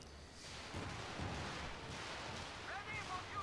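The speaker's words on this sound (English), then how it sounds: "Big Stuka Barrage" A heavy barrage of explosions and rumbling blasts from a Stuka dive bomber strike in Company of Heroes 2 rolls on continuously for a few seconds, loud and dense, while a commentator's voice runs underneath.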